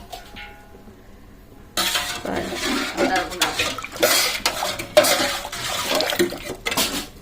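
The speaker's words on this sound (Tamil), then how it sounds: "இப்போ அரிசியை கிண்டி விடணும் கல்லையில் கிண்டி விடணும்" Uncooked rice being stirred in a pan for a Tamil sambar, a close clattering scrape with dense rattling after a quiet start, mixed with splashing and utensil knocks.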